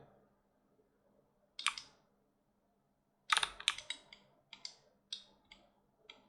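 Computer keyboard keys are pressed and a mouse clicks in a quiet room: a lone tap, then a sharp cluster of clicks and several more scattered taps, close and fairly soft.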